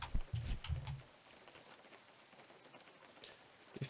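Rain falls steadily in the video game Unturned: a soft, even hiss with a few louder patters near the start and end, no voices over it.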